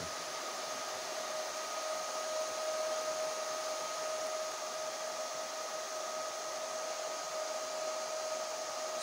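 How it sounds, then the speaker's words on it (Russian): A small 6 cm fan blows air with a steady, even whirr and a high-pitched motor whine, holding constant and close-up with no voices. "Вентилятор 6 сантиметров. Маленький такой, но дует хорошо прям."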